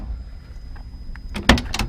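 The door of a 1968 AMC AMX 390 with a four-speed closes with a couple of soft knocks, then a solid thump and a quick rattle of the latch, heard close up.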